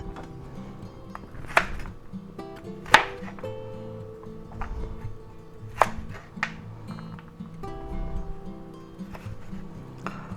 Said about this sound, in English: there's our carrots all sliced up and quartered